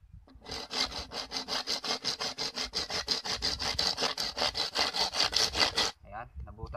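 A hand saw cuts through a dry coconut shell with about twenty-five quick, evenly spaced rasping strokes, close and steady, then stops abruptly as the cut finishes.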